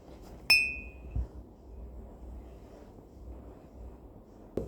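A glass of water is struck once, giving a bright clear ping that rings briefly over a low room hum, followed by a soft thump and a faint tap at the end.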